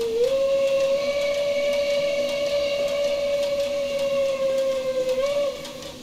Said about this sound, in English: New German whistle. And it sounds really cool. It does have a tune.